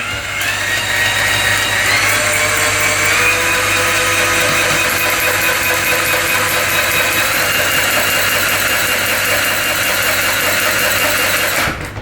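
Ryobi 18V cordless drain auger running steadily as its cable auto-feeds through a sink drain, a continuous close motor whine with a rattling, grinding edge that holds for about twelve seconds before cutting off.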